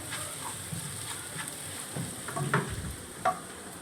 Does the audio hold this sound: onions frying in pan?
yes